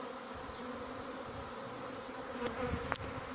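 A honeybee swarm being collected into a cardboard box buzzes in a continuous, even drone, with a couple of faint clicks or taps near the end.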